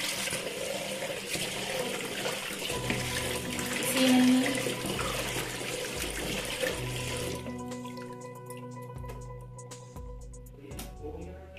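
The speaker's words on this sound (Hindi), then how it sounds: "धो रही हूँ मैं मटन" Mutton rinsed in a kitchen sink under a steady running tap, water splashing continuously up close, then the flow quietens and thins toward the end.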